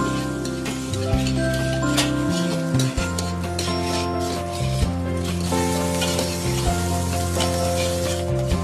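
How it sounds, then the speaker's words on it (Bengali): Chopped mushrooms fry in a pan with a steady, close sizzle and rubbing, scraping stirring strokes throughout, set against a continuous tonal background. "এরপর কাটা মাশরুমগুলো দিয়ে আরো ভাজতে থাকবো।"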